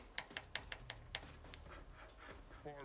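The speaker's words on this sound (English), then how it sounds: "You guys probably hear my, my keyboard." Quick clacking keystrokes on a computer keyboard in a brisk burst, then softer scattered taps, close and fairly quiet.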